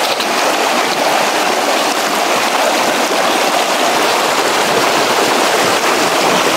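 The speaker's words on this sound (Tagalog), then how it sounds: "Grabe ang lakas ng tubig." Strong water rushes through mountain terrain, a loud, constant roar close by with no speech.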